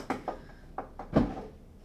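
A single sharp plastic snap of a car fuel pump twisted loose stands out after a few lighter clicks and knocks, close by in a quiet space.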